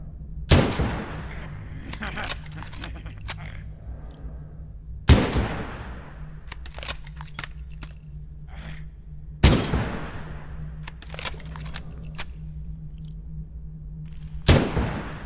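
Video game gunfire in a space mall setting: four loud sharp blasts spaced about four seconds apart, with lighter clicks and pops between them over a low steady hum, and someone talking at times.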